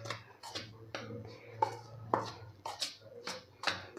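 A spoon mixing hot ghee into flour for karanji dough, a steady series of soft scraping strokes and dull taps against a bowl, close and fairly quiet over a low hum.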